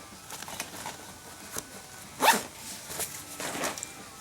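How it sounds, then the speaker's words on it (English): A zipper on a GORUCK tactical backpack is pulled closed in a series of short, soft rasping strokes with one sharper zip in the middle, close but quiet. "zip it up"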